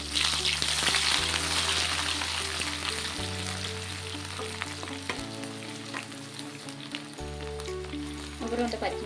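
Onion frying in a pan for a mutton and spinach curry, a steady close sizzle with occasional stirring scrapes; background music plays through with no talk.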